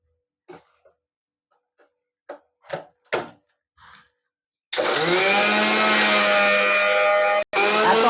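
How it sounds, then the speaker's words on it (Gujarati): A mixer grinder jar whirs loudly grinding cardamom for malpua, a steady motor roar lasting a few seconds after several soft knocks and taps, then briefly cutting out and restarting. "પીસી નાખશું આ મિક્સર જારમાં નાખશું આપણે અને આ એલસી છે એ પણ આપણે પીસી નાખશું"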